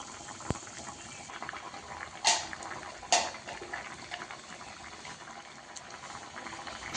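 A pot of fish curry with vegetables bubbles on a high flame, a soft continuous boiling hiss with a couple of sharper clinks.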